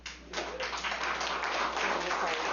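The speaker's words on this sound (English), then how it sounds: "Members of the audience, I would appreciate if you would withhold applause" Onlookers at a state Senate committee hearing on election issues break into applause after a witness finishes testifying, a modest crowd clapping steadily and fairly softly in a large room, with no speech over it.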